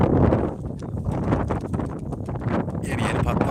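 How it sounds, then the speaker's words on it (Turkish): Strong wind buffets the microphone in rough, gusty bursts, rumbling low and steady, with faint rustling underneath. "Aşırı bir rüzgar var."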